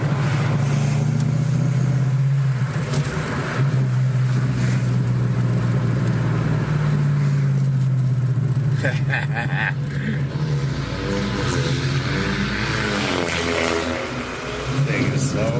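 A car engine with burble tuning revs and rumbles loudly and close, a heavy low drone that rises and falls, with crackling pops toward the end and people talking over it.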